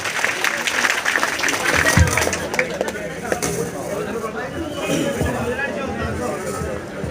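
An audience at a public gathering claps for a singer, a dense sustained patter of many hands with crowd murmur mixed in.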